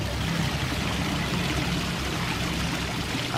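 Water pours continuously over a small waterfall into an in-ground koi pond with a multi-chamber filter system, a dense, unbroken rushing splash close by.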